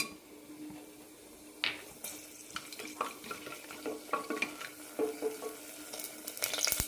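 Cinnamon, cloves and cardamom fry in coconut oil in a pressure cooker, giving a quiet sizzle broken by sharp crackles and pops that grow busier, with scraping stir sounds and no talk.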